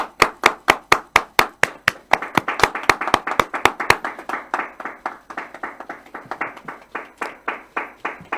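Clapping answers a call for applause at a political address. It starts as a single steady rhythmic clap, sharp and evenly spaced, and after about four seconds grows into quicker, denser clapping from more hands. No one speaks over it.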